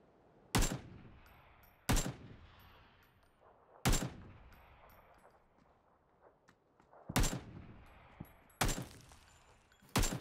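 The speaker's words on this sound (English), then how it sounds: "I'm getting shot." Five sharp, loud gunshots from PUBG gameplay ring out at irregular intervals, each with a short decaying tail, over quiet game ambience with no talk.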